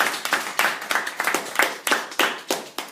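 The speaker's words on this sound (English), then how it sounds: "Can we give Vonley a massive round of applause?" A small seminar audience claps at close range, with individual hand claps clearly distinct in an uneven, lively rhythm.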